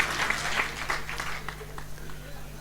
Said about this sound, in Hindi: एक बार आशीर्वाद के रूप में तालियां